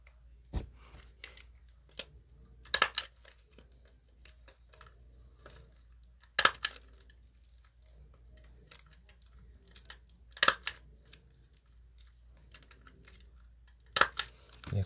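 Coins being slipped into the pockets of a coin album holder, among them a large crown-size Eisenhower one dollar coin, give a few sharp, brief metallic clicks and taps spaced apart against quiet handling noise.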